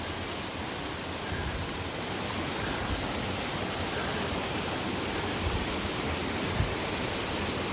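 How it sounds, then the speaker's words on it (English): A stream rushes and splashes continuously over a series of waterfalls in the Blue Mountains, a steady, dense roar that fills the whole clip without pause. "As you can hear, we've come to a stream or a series of waterfalls."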